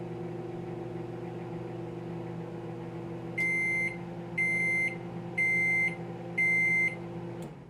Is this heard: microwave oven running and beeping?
yes